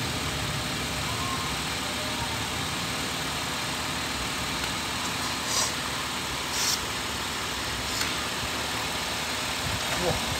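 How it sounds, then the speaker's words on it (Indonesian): A car engine idling steadily while its radiator is flushed with cleaning liquid, a constant close rumble with a few faint clicks and no clear change in revs. "Kita bunyikan mesinnya biar membersihkan"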